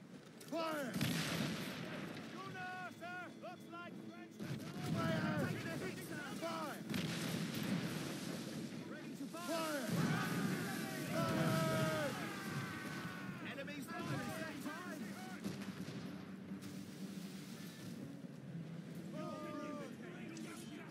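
Cannon broadsides from a ship in the video game Assassin's Creed Rogue, repeated booming blasts over water while someone talks throughout.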